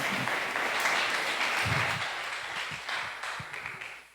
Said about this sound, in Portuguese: Vamos aplaudir a vida dele